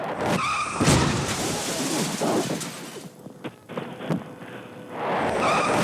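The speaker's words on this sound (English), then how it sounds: "an SUV comes from nowhere and demolishes the police cruiser, shunting it forward" An SUV slams into a parked police cruiser and shunts it forward: loud crunching, skidding impact noise and debris clatter, followed by quieter rattles and another burst of crash noise, with some talk mixed in.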